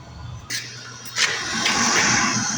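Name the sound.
MG car heater blower fan running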